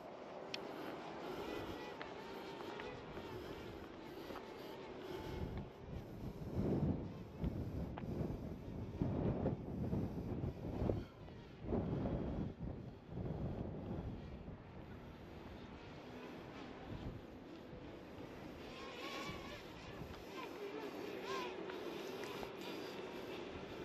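Strong wind buffeting a microphone outdoors, a constant rushing roar with louder gusts in the middle, too windy to fly a drone.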